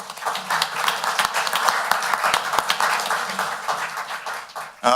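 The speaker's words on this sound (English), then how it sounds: "Let's give them a round of applause" A county council meeting audience applauds the treasurer and auditor: a few seconds of lively, close clapping with distinct individual hand claps cutting through, ending abruptly.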